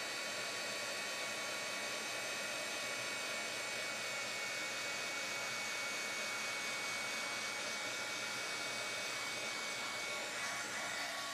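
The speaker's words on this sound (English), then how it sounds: "Now I'll grab my heat tool and we'll melt the powder." Heat tool melting embossing powder on a greeting card panel, a steady loud blowing whir throughout, with a brief spoken remark near the end.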